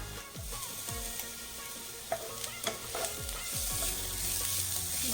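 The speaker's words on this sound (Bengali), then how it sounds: "পেঁয়াজ আর কাঁচা লঙ্কা একটু ভেজে নিলাম। এখন দিয়ে দিচ্ছি 1 চামচ আদা রসুন বাটা।" Onion, green chilli and ginger-garlic paste fry in a pan with a steady sizzle, broken by scraping stirs with a spatula, while a fish cutlet mixture is being prepared.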